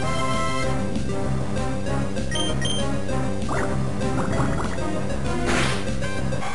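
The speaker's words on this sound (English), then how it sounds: "Get him to use water gun" Water Gun in Pokemon Emerald plays as a bright chiptune-style burst of bubbly, dripping electronic tones layered over steady game music, with a brief gushing flourish near the end and no voices.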